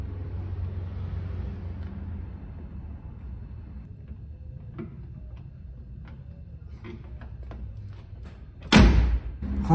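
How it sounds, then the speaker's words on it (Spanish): The door of a Torino 380 coupe, fitted with new rubber door stops, shuts near the end with a single solid thump after quieter clicks and handling noises over a steady low background hum. "Ahora la puerta cierra como corresponde, nada de movimientos ni nada."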